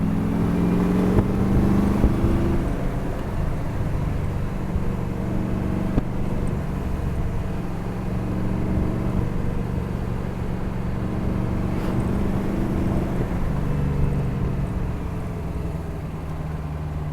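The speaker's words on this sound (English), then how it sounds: "there's so much torque in this engine" A car engine hums and surges steadily throughout, a continuous low rumble with rising revs, close and fairly loud with no talking.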